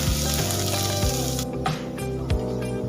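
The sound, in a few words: onions frying in hot oil on high flame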